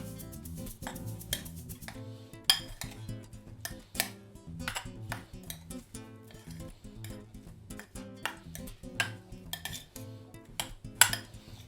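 Chopped fruit and apple for a sticky toffee pudding are stirred in a bowl, a spoon scraping and clinking against the dish in irregular bursts, close and fairly quiet, with a hum running underneath.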